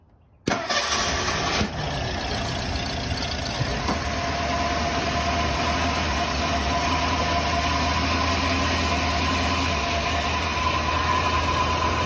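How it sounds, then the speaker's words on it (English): An old carbureted car engine cranks and catches abruptly, then settles into a steady, loud running drone with a constant low rumble and no voices. "Engine running."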